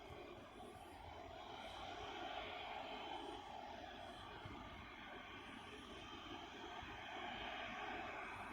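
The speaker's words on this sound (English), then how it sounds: "4 massive Rolls-Royce Trent engines" An Emirates four-engine jet airliner with Rolls-Royce Trent engines at Birmingham Airport gives a continuous, fairly distant roar of engine noise that holds steady without a clear start or finish.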